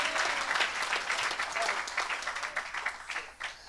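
Congregation applauding at a church service, steady dense clapping that fills the room continuously for the whole stretch, close and fairly loud with no pauses.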